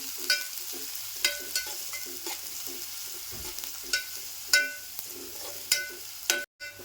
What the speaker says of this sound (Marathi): कांदा टाकूया कांदा पण थोडासा तांबूस करून घेते